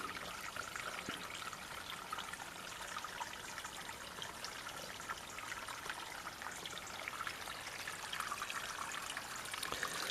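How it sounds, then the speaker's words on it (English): Spring water flows steadily from a spring well, a continuous soft trickling and splashing wash that holds even and unbroken throughout, with no voices. "And of course all this water is flowing from the spring well."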